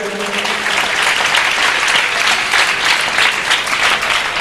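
A church congregation at a Tamil Christian convention bursts into loud, sustained applause, dense clapping filling the hall with a faint voice briefly underneath at the start.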